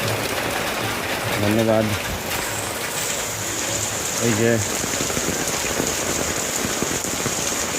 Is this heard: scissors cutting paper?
no